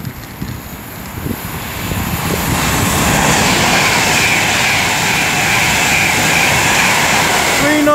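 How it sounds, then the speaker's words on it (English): An Avanti West Coast Class 390 Pendolino from Liverpool Lime Street to London Euston passes Lichfield Trent Valley, a rumble swelling over the first few seconds into a loud, sustained roar close by. "now about to pass by down here is going to be an Avanti West Coast Pendolino from Liverpool Lime Street to London Euston"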